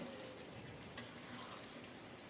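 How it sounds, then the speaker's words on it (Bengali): Rooster meat sizzling low in a pan while it is turned now and then, a faint continuous frying hiss with a single soft clink partway through, no one talking. "এদিকে আমি কিছুক্ষণ পর পর মাংসটাকে নেড়ে চেড়ে দিচ্ছি"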